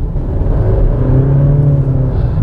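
Car with a CVT transmission droning under throttle, a loud, steady, near engine hum that holds one pitch and swells slightly as the accelerator stays pressed.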